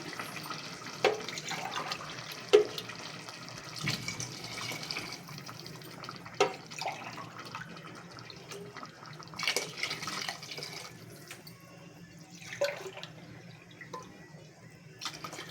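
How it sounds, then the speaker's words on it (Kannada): Water being poured into a cooked mushroom biryani masala, about four glasses, giving a quiet liquid trickle and splash with soft intermittent pours and light knocks, fairly faint throughout. "ನಾಲ್ಕು ಗ್ಲಾಸ್ ನೀರನ್ನು ಸೇರಿಸಿಕೊಳ್ಳಿ"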